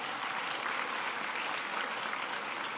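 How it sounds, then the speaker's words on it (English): Steady, dense applause from a school audience during a presidential speech on education, a broad even wash of many hands clapping throughout with no pauses. "That's worth applauding, that you're enjoying learning so much."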